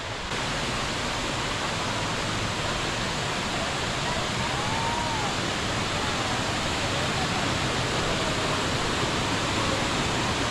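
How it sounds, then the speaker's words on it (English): Mok Fa Waterfall in Pai, Thailand, gives off a constant, dense rush of falling water that stays even and fairly loud throughout. "Check out this waterfall, guys."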